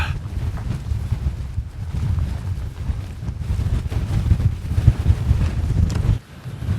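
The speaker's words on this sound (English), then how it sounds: "And the wind's got up." Wind gusts across a small ridge near Clough Head in the Lake District, buffeting the microphone with a continuous loud rumble that surges and eases, then drops briefly near the end.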